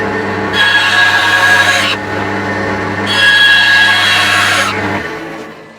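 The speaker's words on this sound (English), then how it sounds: "I'm literally going to run this through and cut so this is sharper." Power tool with a new blade angle cutting wooden vegetable patch stakes to sharpen them: two loud, close whining cuts of a couple of seconds each over a constant motor hum, winding down at the end.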